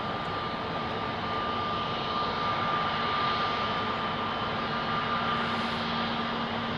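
An airliner climbing out after takeoff from Heathrow runway 27R produces a sustained jet roar with steady whining engine tones running through it, moderately loud and even, and no one speaking.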